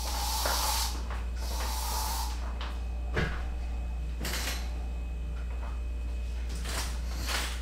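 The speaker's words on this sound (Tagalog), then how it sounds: "nag-spray ako Lysol" Lysol disinfectant spray can spraying indoors, several separate hissing bursts of varying length over a steady low hum, close and clear, no talk.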